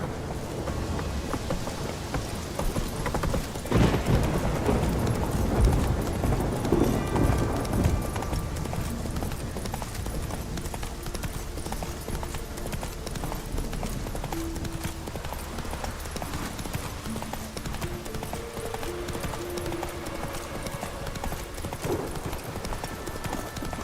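Roach, a horse in The Witcher 3: Wild Hunt, gallops with rapid, rhythmic clip-clopping hooves close by, steady throughout with a brief snort, under a light patter of rain.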